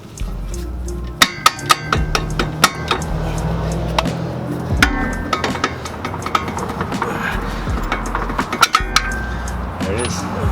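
A hammer strikes a car suspension part during a coilover install on a 2015-or-later WRX STI. The clangs and metallic taps come at irregular intervals over steady garage noise, close and sharp.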